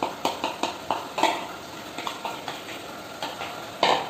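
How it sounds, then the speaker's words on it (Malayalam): A spoon stirring a dry coating mix of maida flour, cornflour, oats and garam masala for chicken, knocking and scraping against the bowl in irregular clinks, close and fairly clear with no talk. "അപ്പോൾ നമുക്ക് ഇതെല്ലാം കൂടെ മിക്സ് ചെയ്ത് ആ കൂട്ടൊന്ന് തയ്യാറാക്കാം"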